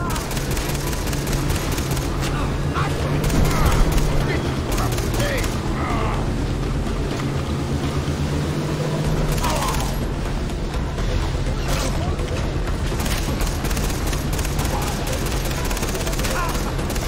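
Bursts of automatic gunfire and heavy booms rattle continuously in a loud battle in the video game Far Cry 3, with shouting voices mixed in over the noise.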